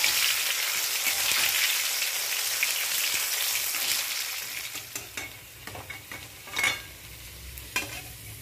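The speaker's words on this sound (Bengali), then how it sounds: "বেশ মুড়মুড়ে করে ভাজবো" Thin potato stick chips frying in hot oil until crispy, giving a steady dense sizzle that thins out toward the end with scattered crackles and pops, close by with no talking.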